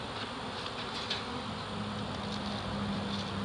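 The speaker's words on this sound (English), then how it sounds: "These bees can sting through these gloves." A swarm of bees clustered on a fence gives a continuous, even buzzing hum at moderate distance, with no voices over it.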